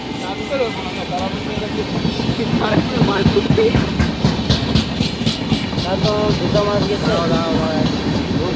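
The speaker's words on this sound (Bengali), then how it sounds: "সামনে দিয়ে আবার ট্রেন যাচ্ছে দেখতে পাচ্ছ তোমরা।" A passing train, a loud steady rumble with rhythmic rail clatter building midway, heard under nearby people talking.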